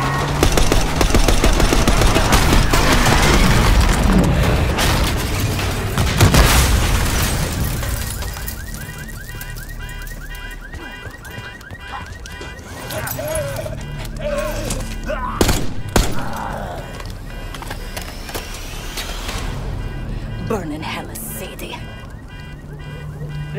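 Gunfire in Call of Duty: Black Ops 6 during an attack on a limo in the street: a dense, loud opening barrage of automatic fire, then scattered bursts and single sharp shots over ambient game noise.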